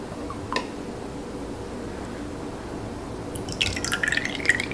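Cream goes into a measuring cup for a creamy fruit salad: a single short drip or splash early on, then quiet room tone, then a close cluster of small liquid ticks and glassy clinks toward the end.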